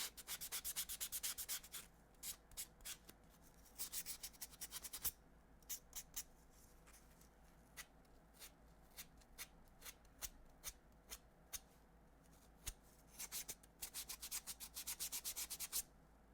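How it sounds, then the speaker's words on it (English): Sandpaper rubs over an object in bursts of quick, close strokes that pause and resume, with short scratchy passes repeating throughout and no voices. "This is really good sandpaper, though."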